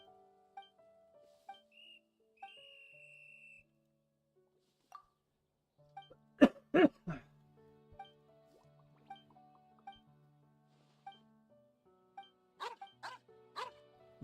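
Dog barking in the video game Genshin Impact, a few short sharp barks in quick bursts, close and clear against a quiet background with soft game tones and chimes.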